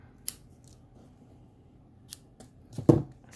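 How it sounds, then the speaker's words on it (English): Paper snips cut card stock for a handmade greeting card: a few short, crisp snipping clicks spaced apart, the loudest near the end, in a quiet room. "And then bring in my snips."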